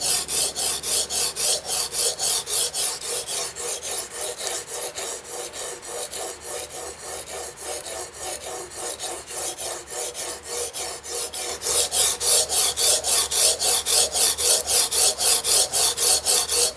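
A knife is drawn across an Anystone sharpening stone in fast, rhythmic rasping strokes, close and loud, with a short pause midway before the strokes resume even stronger on the other side.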